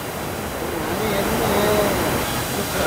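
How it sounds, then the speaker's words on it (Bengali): Water pours down steadily over the rock above Gupteshwar Mahadev cave in Pokhara, a continuous broad rushing roar close by, with a voice faintly under it. "আর এইটাই সেই জলটা উপর দিয়ে এসে নিচে পড়ছে।"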